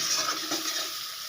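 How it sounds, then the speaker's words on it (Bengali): Water poured into a pan of frying spice masala while cooking a mukhi kochu curry with shankar fish sets off a loud, close, continuous hissing sizzle. "একটু জল দেব, কষানোর সময় একটু জল দিয়ে কষালে মশলাটা খুব সুন্দর"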